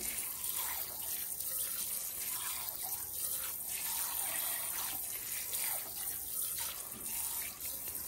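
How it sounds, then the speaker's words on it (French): Cold tap water runs steadily into a sink while chicken legs are rinsed under it, a continuous close splashing gush with slight fluctuations as the meat is moved in the stream. "Je rince encore une dernière fois"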